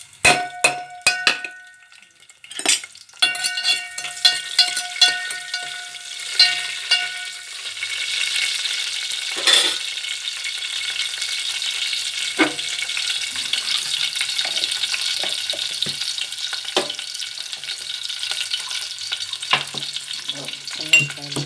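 Tempering seeds and onions fry in a pan, opening with sharp crackles and clinks of a utensil against the pan, then settling into a loud, continuous sizzle with occasional stirring knocks and no talking.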